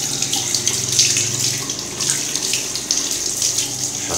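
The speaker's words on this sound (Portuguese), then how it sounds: "Deixa eu pegar bastante água." Tap water runs steadily from a faucet over a fishing reel as it is rinsed free of soap, a close, continuous hiss and splash with no pauses and no voices.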